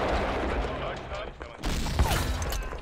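Gunfire in the Hidden Stroke II Kursk tank battle game, a dense continuous fusillade with a heavy boom near the middle, heard alongside game noise and muffled voice-like sound.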